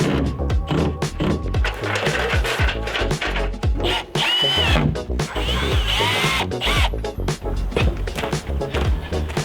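A power drill fixes a fibre-cement panel to the wooden battens behind it on a shipping-container house roof. Loud, close bursts of whirring come in quick succession, with clattering handling noise between them.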